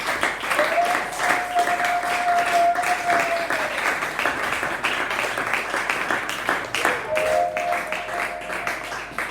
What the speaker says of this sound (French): Est-ce que tu peux encore bien acclamer pour Jésus?